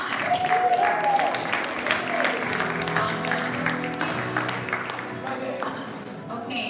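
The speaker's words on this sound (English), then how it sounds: "Give a round of applause." Audience applause at a summit, a steady wash of clapping from a crowd that stays even and fairly loud throughout, with voices mixed in underneath.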